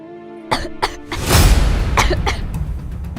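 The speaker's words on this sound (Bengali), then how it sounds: "কাশছো কেন" A woman with a cold coughs twice in short bursts, then lets out a louder, longer rasping cough, followed by a few softer coughs close by.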